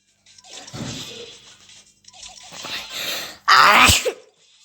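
A single loud, sharp sneeze bursts out near the end, after a few seconds of breathy vocal noises and quiet rustling from one person close by.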